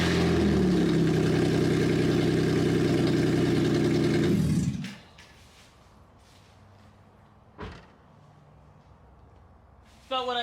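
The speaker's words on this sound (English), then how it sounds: "So I'm gonna start it straight pipe, see how it sounds." A Ford Ranger engine running through a straight-pipe exhaust with no muffler, loud and steady with a low rumble for about five seconds before cutting off, followed by quiet with a brief clunk and a short burst of noise at the end.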